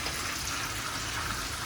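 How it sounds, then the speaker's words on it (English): Vinegar poured into a pan for Jamaican escovitch fish, a brief steady liquid stream heard close and fairly quiet. "put in your vinegar"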